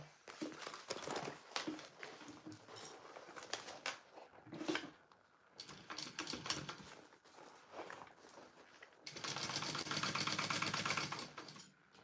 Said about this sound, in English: I'm just basting my two layers real quick